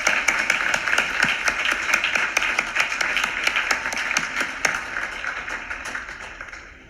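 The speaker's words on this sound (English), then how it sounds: "Please give them a round of applause to thank them." A graduation audience applauding, dense steady clapping from a large crowd that carries on for several seconds, then thins out and fades toward the end.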